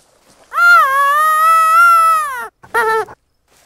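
A wild cat in the hunting game TheHunter: Call of the Wild gives a loud, drawn-out meowing yowl lasting about two seconds, then a shorter second call, both close and clear over near silence.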